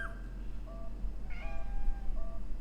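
Short, thin meows from a cat in the horror game Conarium, two or three quiet calls over a low steady background hum.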